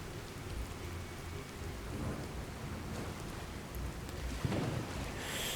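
A thunderstorm in Fallout 4 fills the scene with constant rain hiss and soft rumbles of distant thunder, one louder crack near the end, with no one talking.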